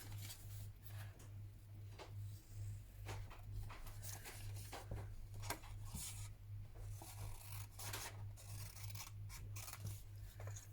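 Scissors trimming paper collage pieces for a craft card cover, soft close snips and paper rustles scattered irregularly over a steady low electrical hum, with no talking.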